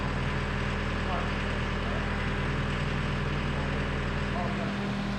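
Skid steer loader engine running at a steady, loud idle with a continuous low rumble and droning hum, voices faintly present.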